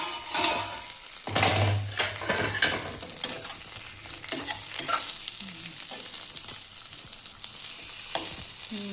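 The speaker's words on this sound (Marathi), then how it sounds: "चला आता आपण झाकण उघडून घेऊया आणि हलवून घेऊया चांगलं कारलं." Bitter gourd frying in a pan over low heat, a soft continuous sizzle with a spoon scraping and stirring through it, close and fairly quiet with no talk.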